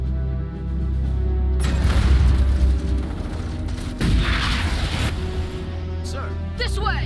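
Gunfire and explosions in the video game Starship Troopers Terran Command, a loud sustained barrage of shots and booms building after a quiet start, with brief bursts near the end and voices shouting over the battle.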